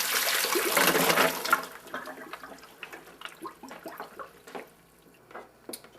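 Water pours out of potatoes into a colander in a brief rushing gush, then thins to scattered drips and light clatter as it finishes draining.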